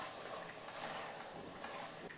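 Water pours steadily into a pot of chicken biryani for the full two seconds, a close, continuous splashing rush with no talk.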